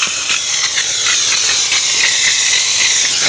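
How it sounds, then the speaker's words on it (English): A Harbor Freight handheld steamer sprays steam onto carpet in a loud, steady hiss with faint pulsing, close and alone throughout. "Shoot some steam"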